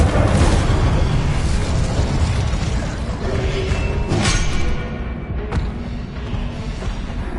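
Incendio fire spells cast in the video game Hogwarts Legacy erupt as loud, roaring blasts of flame, one burst crowding the next, then ease into a lower, steady rumble near the end.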